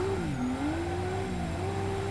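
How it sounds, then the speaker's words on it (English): A Nissan RB engine in a drift car in the Assetto Corsa racing game runs at full throttle, a sustained, buzzing drone that rises, dips and climbs again in pitch, fairly quiet and with no voices. "I just cannot get over how awful the RB sounds at full throttle"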